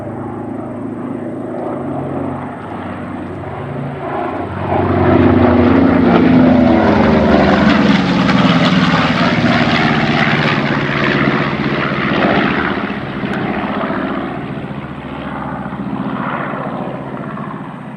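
B-25 bomber Betty's Dream passing over an air show, its piston engines and propellers swelling to a loud, rough roar overhead, then easing away.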